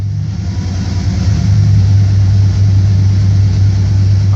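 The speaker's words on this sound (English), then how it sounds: "then bring the truck up to 1000 RPMs." A truck with a 46RE automatic transmission held in first gear at about 1000 RPM, its engine producing a loud, steady, low-pitched drone that builds slightly at the start and then holds constant, close up with no talk.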